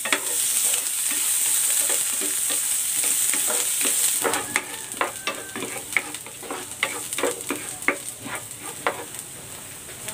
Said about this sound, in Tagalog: Magigisa na ako ng luya